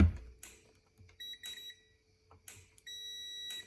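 A multimeter on continuity setting testing a Mitsubishi Triton transfer case switch, giving short high-pitched electronic beeps several times, brief and intermittent with clicks and quiet gaps between.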